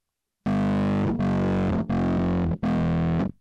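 Bass guitar played through a handmade CardBass distortion pedal: four loud, gritty sustained notes in a row, each cut off sharply before the next, with no talking.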